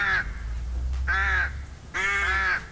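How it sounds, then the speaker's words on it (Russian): Black crows cawing in a place where they nest in nearly every tree: three loud, harsh caws, the last one longer and doubled, close by over a steady low rumble. "Черные вороны гнездятся почти на каждом дереве."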